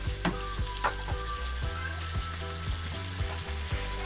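Chicken masala sizzles steadily in a hot pan, a continuous frying crackle with light stirring scrapes and clinks spaced through it.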